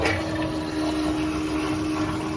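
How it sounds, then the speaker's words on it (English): Private jet lavatory toilet flushing, a steady rushing, pumping wash of water with a constant hum that holds for a couple of seconds, close and moderately loud. "Back in the lav here, make sure there's no surprise logs. Give it a flush."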